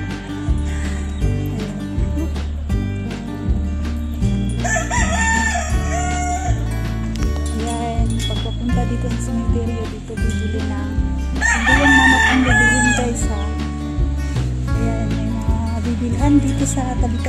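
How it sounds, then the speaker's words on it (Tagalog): At a memorial park in the Philippines, roosters crow loudly in two long bursts among the clucking of many chickens, set against a steady layered background of other noise. "Dami manok"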